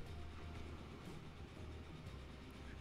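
A train runs in the Transport Fever 2 video game, a low, steady rumble and rolling rail noise that stays faint and even throughout with no voices.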